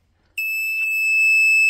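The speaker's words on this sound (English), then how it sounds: "Yeah, you can hear the little alarm going off." A faulty power inverter hooked up to LiFePO4 batteries sounds a steady, piercing electronic alarm tone that starts abruptly and holds continuously, close and loud, with no talking.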